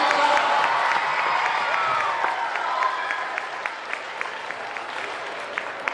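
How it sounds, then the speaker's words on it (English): A school assembly crowd clapping for a student's national peace poster honour: a broad, sustained round of applause with scattered sharper claps and faint cheering, no speech over it. "So let's hear it one more time. Yeah, just a clap."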